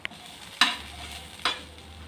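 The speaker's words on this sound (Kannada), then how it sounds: "ಬೆಳ್ಳುಳ್ಳಿ ಮತ್ತು ಈರುಳ್ಳಿಯನ್ನು ಸಹ ಚೆನ್ನಾಗಿ ಫ್ರೈ ಮಾಡ್ಕೊಳ್ಬೇಕು." Garlic and onion frying in a pan for a basale greens saaru, with a faint steady sizzle and two brief scraping stirs, quiet and close.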